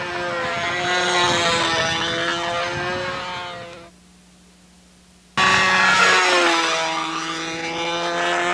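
Model airplane with a larger-diameter 11.73 propeller in windy conditions, loud buzzing engine whine with shifting pitch as it passes, dropping out for a second and a half before returning loud.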